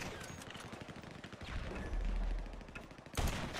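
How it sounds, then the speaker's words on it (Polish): A heavy sniper rifle fires in Grand Theft Auto 5 Online, with one low, booming shot around the middle and a sharp crack near the end over continuous game noise. "Ciężki karabin snajperski"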